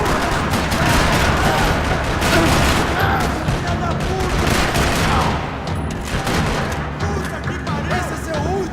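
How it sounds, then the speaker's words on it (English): Rapid bursts of gunfire in the video game Max Payne 3 crackle almost continuously, loud and close, with explosive booms mixed in and voices faintly underneath. "Another parking lot rattling with gunfire."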